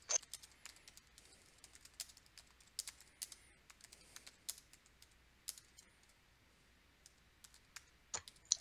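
Quick typing on a computer keyboard, irregular clicks and keystrokes in short bursts, faint and close, with no talking.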